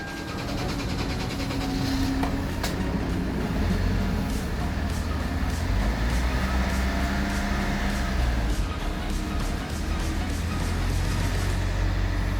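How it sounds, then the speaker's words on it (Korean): A car engine fires up and settles into a steady idle after intake and injector cleaning, a low droning rumble with faint clicks and workshop noise around it, fairly quiet and continuous. "자 시동을 걸어 보겠습니다"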